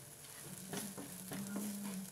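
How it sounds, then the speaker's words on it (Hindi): Onions fry with ground spices such as coriander and black pepper in a pan for a mushroom dish, giving a faint, steady sizzle with soft stirring scrapes. "इसे प्याज के साथ फ्राई होने दें"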